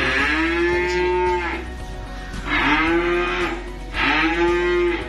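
Calves at a cattle trader's yard in Kediri moo three times in long, loud, close calls, each a drawn-out low bellow separated by short pauses, with no talking.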